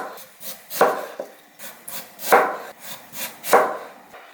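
Knife slicing through a peeled radish on a wooden cutting board: three firm, evenly spaced cutting strokes with softer scraping between, close and fairly loud, no talking.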